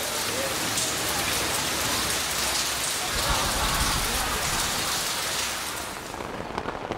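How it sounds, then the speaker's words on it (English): Heavy rain pouring steadily at an outdoor concert in Moscow, a dense, loud hiss of falling water that continues without a break and eases slightly toward the end. "And then it begins to rain."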